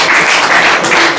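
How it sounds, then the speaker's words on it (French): An audience claps loudly and densely for a named person at a ceremony, a short, steady burst of applause up close with no voices. "que je vous demande d'applaudir"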